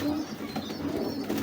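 Fancy breeder pigeons cooing close by, a soft continuous low murmuring with steady coos throughout, no voices.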